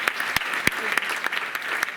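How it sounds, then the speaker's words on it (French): Scattered claps from a jazz concert audience, a handful of distinct hand claps spaced out over a couple of seconds against a quiet room. "je vous demande d'applaudir très fort M."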